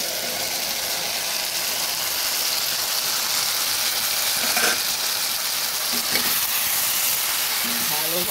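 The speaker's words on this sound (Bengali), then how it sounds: "ভালোভাবে নেড়ে দিচ্ছি।" Tomato and sweet potato chutney sizzles steadily in a pan while being stirred, a loud, dense hiss running unbroken throughout with a few soft scrapes of the spoon.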